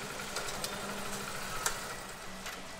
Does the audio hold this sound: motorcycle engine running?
yes